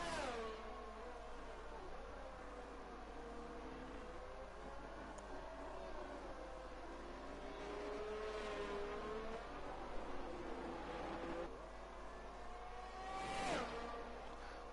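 Race car lapping the Great Britain circuit in a sim racing league broadcast, a steady engine drone with rising and falling pitch through gear changes, constant and moderately loud with no talk over it.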